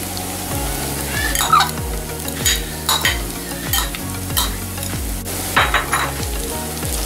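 Garlic and ginger sizzle in hot oil with curry leaves for a Kottayam-style Kerala red fish curry, a steady frying crackle broken by repeated scraping stirs, with a soft melodic backing underneath.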